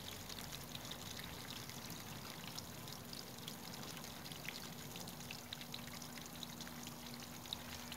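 Water pours steadily out of a homemade mini fire extinguisher container holding about ten litres, a faint, continuous trickling stream with no talk.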